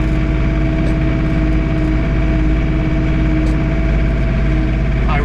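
John Deere 3 Series compact tractor engine held at about 2100 RPM while snowblowing, a steady loud droning hum with an even rhythmic throb, heard close from the warm cab.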